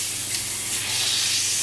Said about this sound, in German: Lieber ein bisschen weniger anbraten und in den Ofen schieben, als zu lange braten